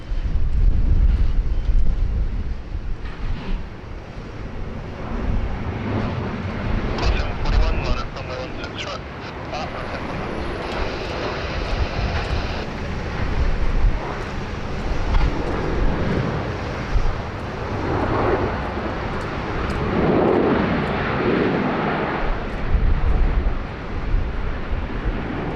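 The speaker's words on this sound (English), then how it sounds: "There's Qantas Flight 741 at the Bravo 1 holding point entering runway 16 right" A Qantas passenger jet roars at Sydney Airport, a loud broad rumble of engine noise with wind buffeting the microphone, while a person talks over it.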